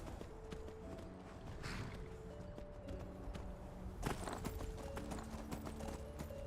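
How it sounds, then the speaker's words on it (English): Horse hooves clip-clopping in the Skyrim video game, a steady run of close, even hoofbeats with faint music tones and game ambience underneath, no talking. "We're going to call our horse."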